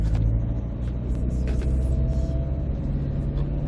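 Steady engine hum and road rumble from inside a moving car, a dense low drone holding at an even level throughout with no voices over it.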